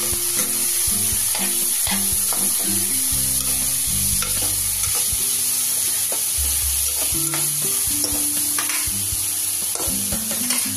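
Spices stirred in a hot pan, including salt, red chilli powder, coriander powder and turmeric, sizzling steadily with repeated scraping strokes of the spoon, close and continuous with no talking.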